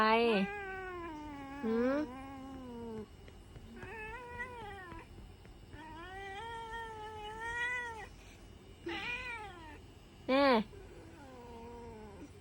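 A cat meows and caterwauls repeatedly in long, rising and falling complaining cries, loud and close, with short gaps between calls.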